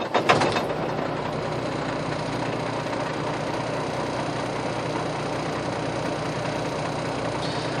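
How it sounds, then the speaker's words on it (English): Truck engine cranking and catching during a cab inspection, a short burst of starter noise followed by a steady, continuous low diesel idle that holds evenly, close and fairly loud, with no talk. "Start the engine."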